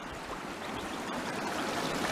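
Water flows in a creek being panned for gold, making a continuous, steady rushing and trickling close by. No one talks over it.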